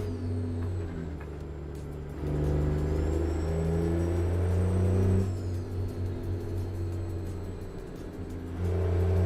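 A heavy truck in a trucking video game grinds its gearbox under a steady, loud engine drone, the rumble swelling and easing as the revs shift, with a thin metallic whine riding above.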